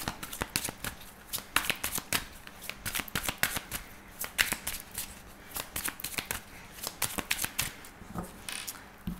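Tarot cards being shuffled by hand, close and clear: quick repeated riffles and slaps in uneven bursts, with no talking.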